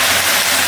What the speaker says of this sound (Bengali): একটু সামান্য জল দিব।